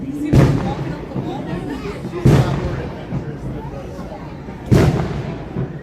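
Fireworks burst three times at Epcot near the Disney Skyliner at Walt Disney World, deep booms spaced a couple of seconds apart, moderately distant, under crowd chatter and nearby talk.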